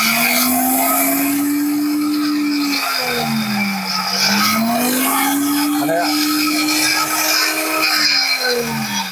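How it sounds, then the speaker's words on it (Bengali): A powerful electric blender machine runs loud and steady, its motor whine sliding down and back up in pitch over a dense, rough roar, with no voices. "আমার তো মনে হইতেছে ব্লেন্ডার নামে একটা গাড়ি চালাইতেছে"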